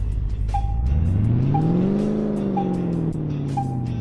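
A Toyota 2000GT, called the Sakura GT20 in the video game Car Mechanic Simulator 2018, driving at an airport, its engine revving up and easing off in a rising then falling sweep, loud and close, with a repeating chime and no talk.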